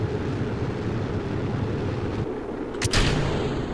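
A rocket engine burning in Kerbal Space Program, slowing a Kerbal X craft near the Mun: a steady loud low roar that dips briefly, with a sharp crackling burst near the end.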